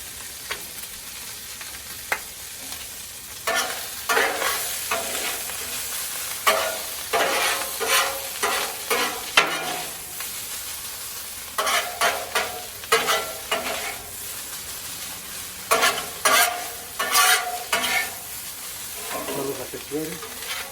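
Tortillas frying in oil and lard on a Blackstone griddle, a steady sizzle under repeated scraping and flipping strokes from a spatula, close and fairly loud.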